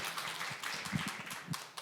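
An audience at a youth culture festival claps for a singer, a faint, thin patter of hands heard from a distance, uneven and fading toward the end.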